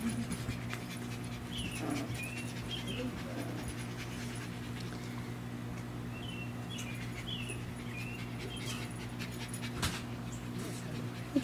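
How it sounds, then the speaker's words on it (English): Eight-week-old puppies pant and let out faint whimpers close by, with soft bird chirps in the background on a hot, humid summer day; a low steady hum runs underneath. "Puppies, puppies."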